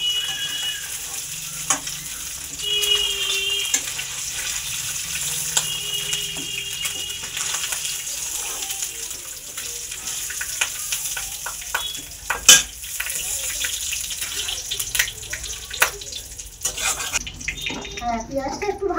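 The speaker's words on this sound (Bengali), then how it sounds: "আমাদের এখন এখানে ডিমটা ভাজা হচ্ছে" An egg frying in a pan, steady soft sizzling with occasional scrapes and clatters from stirring, continuing throughout at moderate level without talk over it.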